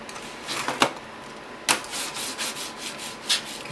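Scratchy rubbing and sliding strokes as a computer mouse is dragged across a textured mousepad, close and fairly quiet, in short irregular swipes with a couple of sharper scrapes.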